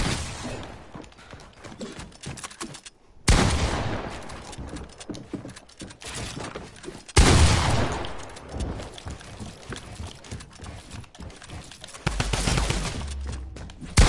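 Sniper rifle fire in a German-language first-person shooter, landing as sharp, loud shots at intervals over continuous game action and mechanical clatter.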